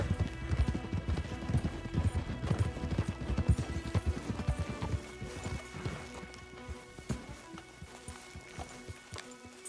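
Horse hooves clip-clop in Red Dead Redemption 2, a brisk, close, rhythmic beat of several horses that slows and thins toward the end, with faint game ambience underneath.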